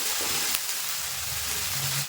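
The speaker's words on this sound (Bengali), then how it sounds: "তো পেঁয়াজটা আমি একটু ভেজে নেবো" Onion paste fries in a pan for a village-style doi katla fish curry, a steady close sizzling hiss that runs unbroken for about two seconds with no voices.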